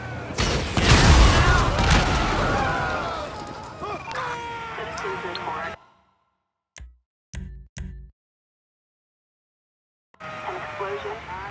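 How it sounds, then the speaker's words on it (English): A loud explosion in Grand Theft Auto V, with booming, crackling gunfire-like bursts, then sudden silence broken by a few short thumps before the noisy action returns. "An explosion."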